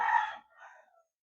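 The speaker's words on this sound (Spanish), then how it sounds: "si oyen un gallo cantar, es que el estudio está al lado de una gallería" A rooster crows from a henhouse next door, one clear crow that trails off, fairly close and alone without talk.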